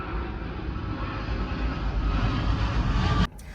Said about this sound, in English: Oh, here comes another plane.